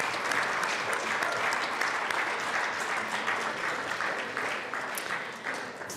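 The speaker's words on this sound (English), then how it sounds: "Let's give a round of applause to the American Heritage Girls for today" A legislative chamber audience in the Colorado House gives a sustained round of applause for a group of girls, dense steady clapping that thins slightly toward the end.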